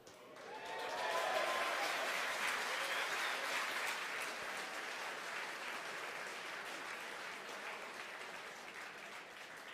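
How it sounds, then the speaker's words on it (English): Sustained applause from a crowd after the fairing separation of a Falcon 9 FT Block 4 rocket launching the Hispasat 30W-6 satellite, rising in the first second and then holding steady and fairly loud to the end. "Again, the applause."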